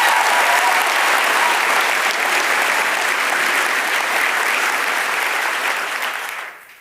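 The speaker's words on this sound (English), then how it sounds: "give our guys a round of applause" Sustained applause from a church audience for the production team, a thick continuous roar of clapping hands that holds steady for several seconds before tapering off at the end.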